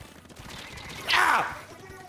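A Splatoon 3 main ink weapon fires in an online versus match, making a short, bright spraying burst midway over a low, busy background of game sounds.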